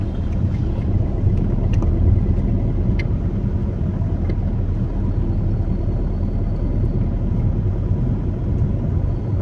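A car pulls away in city traffic as the clutch is eased out with gentle throttle, a steady low engine rumble and road noise continuing evenly without speech.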